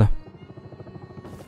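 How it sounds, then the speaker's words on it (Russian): Helicopter in the survival video game Rust flying away, a faint rhythmic rotor thump lasting about a second and a half with no talk over it. "коптер кетір еще"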